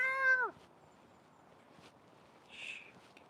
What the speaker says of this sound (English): Oh, I just saw a cat go by.